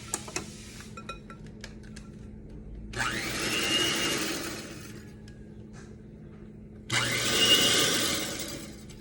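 A hand mixer whirs in a bowl of mango float batter in two loud bursts of several seconds each, separated by quieter clinks and handling sounds, with no voices.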